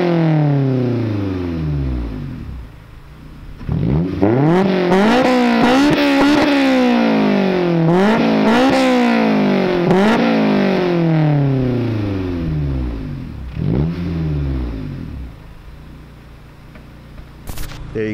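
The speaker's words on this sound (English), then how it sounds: "Let me give you guys some revs real quick" Honda car fitted with a J's Racing exhaust, revved hard outdoors in a series of loud, close throttle blips with rising and falling engine pitch and some crackling, with no talk over it.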